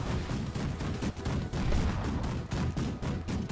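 Heavy naval guns fire continuously in a battleship game, a loud, dense barrage of booming shots with only brief dips between them.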